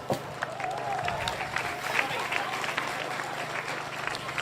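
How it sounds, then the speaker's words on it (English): A crowd claps for the players at a charity sports match, sustained scattered applause with some cheering mixed into a busy outdoor crowd murmur that holds at an even level throughout. "applause for your players."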